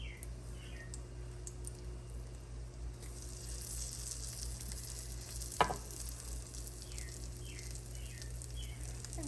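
Chicken livers sizzle steadily in a hot pan for onion-and-liver cooking, a constant close hiss with faint crackles and one sharp clatter midway, no voices.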